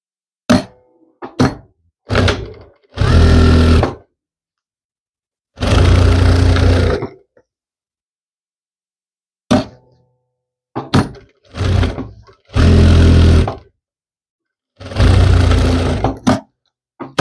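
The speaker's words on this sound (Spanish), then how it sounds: "Vamos a iniciar cosiendo las piezas que ya colocamos con alfileres." A sewing machine stitches back facing and lining pieces of a dress held with pins. It runs in loud bursts of one to two seconds, separated by silences and a few short clunks and taps.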